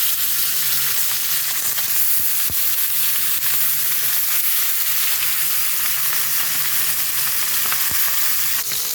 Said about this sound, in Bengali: তেলটা গরম হয়ে গেছে, এখন মাছগুলো আমি ভেজে নেব।